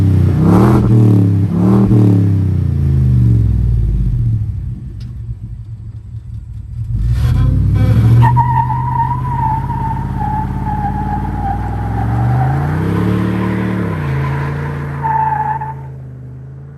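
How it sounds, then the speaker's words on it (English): A Ford F350 Tremor pickup with a modified exhaust revving hard in deep rumbling bursts, then holding a long burnout as tires squeal and the engine drones, loud and close with no talk. "I will do a little sound clip for you here and a burnout."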